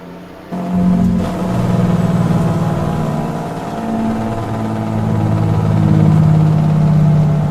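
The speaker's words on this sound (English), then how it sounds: "I love the sounds of this truck." A truck engine starts and idles steadily with a deep, throaty rumble, close and loud, its low drone wavering slightly throughout.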